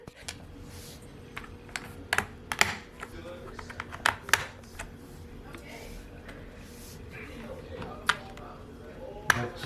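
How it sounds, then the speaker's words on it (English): A computer keyboard being assembled by hand, with sharp clicks and taps of keycaps pressed onto switches coming in irregular bursts, close by, while a person talks quietly in the background. "Putting together my keyboard."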